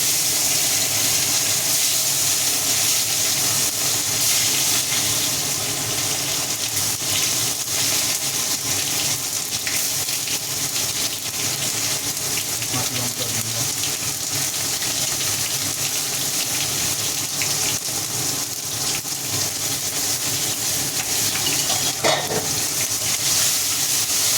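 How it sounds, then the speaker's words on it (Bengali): Loud, constant sizzle of tomato and green chili frying in hot oil, with occasional stirring scrapes, steady throughout and close up. "টমেটো কাঁচা লঙ্কা ভাজা হয়ে গেছে"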